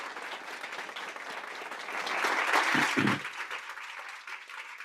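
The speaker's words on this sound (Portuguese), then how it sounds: "Salva de palmas para ela." Audience applause at a women-in-technology event, clapping for a speaker named Paola; steady, dense clapping throughout that swells in the middle before easing slightly toward the end.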